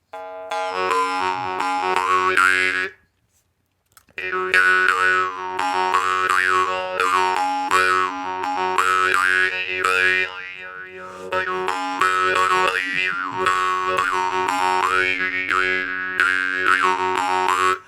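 A Luzhinov jaw harp played cleanly and melodically, its twangy drone shifting in bright overtone melodies as the mouth shape changes, close and steady with one brief pause early on, no talking.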